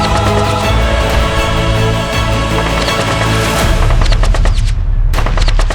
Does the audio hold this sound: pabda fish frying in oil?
no